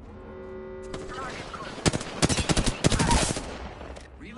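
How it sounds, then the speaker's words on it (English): Rapid bursts of automatic gunfire ring out in a PS4 shooter, several sharp volleys clustered in the middle of the clip over a low steady hum. "Shots fired, and they're hitting me. I'm taking fire, friends."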